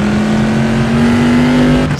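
A Corvette C2 V8 in Assetto Corsa revs hard and steadily at high RPM while the wheels spin, a loud, close, sustained engine drone that drops off sharply at the end.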